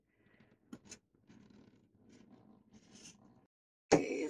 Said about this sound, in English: we're going to just cut score them along these two lines, which I've already pre-measured.